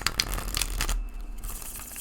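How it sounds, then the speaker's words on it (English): Soft papery riffling and crinkly rustles close by as a deck of tarot cards is shuffled, several quick bursts in the first second, then quieter shuffling continuing with no talking. "I love to shuffle these decks."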